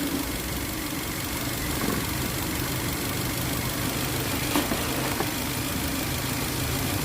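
Toyota Avanza engine idling steadily after a crank-but-no-start repair, a continuous mid-pitched hum with a faint rattle and no voices.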